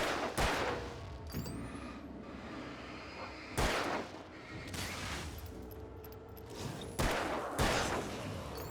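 Gunshots in Alan Wake come as several heavy, booming blasts spaced a couple of seconds apart over a dark, rumbling game ambience, moderately loud.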